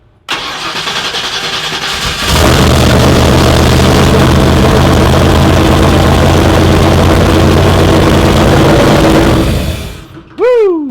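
A car engine fitted with a dual sync distributor cranks and fires for its first start, then roars loudly and steadily at a rough high idle before cutting off, with a brief cheer at the end.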